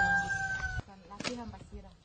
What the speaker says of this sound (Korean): 갑자기 닭들이 싸우기 시작합니다.